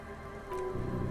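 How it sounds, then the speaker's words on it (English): Rain patters steadily with a soft windy hiss along the coast in the video game Disco Elysium, a brief, even ambient texture that swells slightly toward the end, with no voices. "The reeds shake sadly in the coastal breeze, weighed down by rain."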